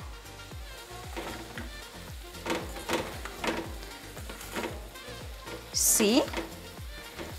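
Onions frying for Kenyan viazi mayai, a steady crackling sizzle with repeated stirring scrapes in a pan, and a brief louder hiss burst near the end; faint talk in the background.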